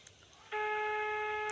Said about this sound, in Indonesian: Telepon Nadia